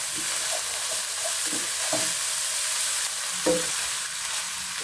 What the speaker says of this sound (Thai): ก็จะผัดให้หมูเขาสุกนะครับ ให้คลุกเขาผสมกับพริกแกง